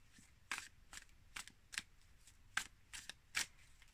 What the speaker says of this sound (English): so let's shuffle these cards a little bit